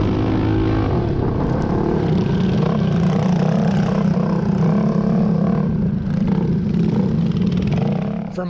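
Mini bikes race in a three-hour enduro near a hill climb. Several small engines roar loudly and continuously at close range, their buzzing tones overlapping and shifting as the pack passes.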